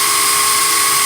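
A power drill boring a hole through glass, giving a steady high-pitched whining grind that is loud, close and continuous, with no voices.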